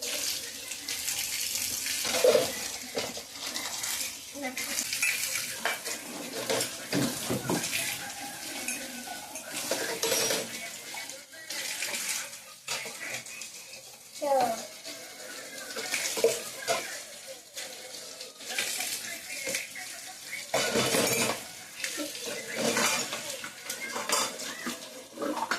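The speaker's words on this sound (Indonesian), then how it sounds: "Nah ini aku nyuci piring" Dishes are washed at a kitchen sink, with a running tap, splashing water and clattering plates and pans that come and go in bursts close by.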